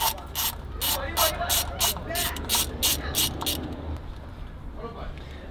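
Repeated ratchet clicking as a 10mm socket loosens a bolt counterclockwise on a BMW 320i E92 N43 engine, a steady run of about ten close, crisp pawl bursts that stop near the end.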